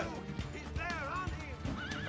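A horse whinnies several times in wavering high cries in Assassin's Creed 2, over a steady bed of game background noise and thudding hooves, with a voice briefly heard.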